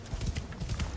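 Horse hooves clip-clop in a video game in a quick steady rhythm, fairly loud and close, with no talking over them.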